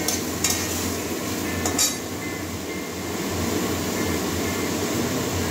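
Spices such as cumin and turmeric being stirred and sautéed in a pan for a potato, pumpkin and spiny gourd fry, a steady low scraping hum with two brief clinks of utensil against the pan, no talking.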